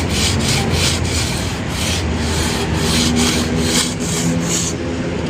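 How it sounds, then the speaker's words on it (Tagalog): Bamboo is sanded by hand with coarse sandpaper at an outdoor riverside esplanade. Close, loud, rhythmic rasping strokes repeat about twice a second over a constant background roar, with no talking. "Ginagamitan ng lihang magaspang to para naman ay para matanggal yung mga excess no."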